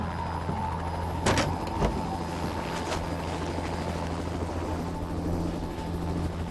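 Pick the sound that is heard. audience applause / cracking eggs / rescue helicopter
rescue helicopter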